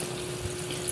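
Water is poured steadily into a pot of Filipino tomato chicken stew, giving a continuous liquid rush with a faint low hum behind it.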